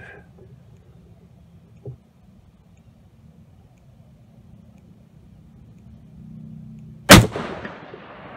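A single loud rifle shot from a Browning BAR Mark II Safari cracks sharply near the end, its echo trailing off, after a faint low rumble and a small thump earlier.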